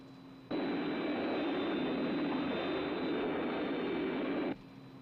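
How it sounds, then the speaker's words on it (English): Jet engines of the aircraft Thunderbird 1 roar as a steady, broad whoosh that starts abruptly, holds evenly for about four seconds, then cuts off, with no talking. "keep your ears open for the sound of our jets"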